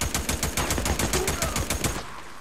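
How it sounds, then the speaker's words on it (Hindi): Rapid, steady machine-gun fire from the video game Days Gone rattles loud and close in an unbroken burst, then stops abruptly. "तो मशीन गन लेके घूम रहा है ये तो."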